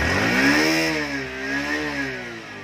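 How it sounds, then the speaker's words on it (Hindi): Exhaust of a Bajaj Platina 100cc motorcycle idling close by, a steady low putter with a slight rise and dip in engine speed, heard alone without talk. "तो स्टार्ट करते हैं तो एग्जॉस्ट साउंड को सुनते हैं कैसी एग्जॉस्ट देखने मिलती है प्लैटिना 100cc बाइक में।"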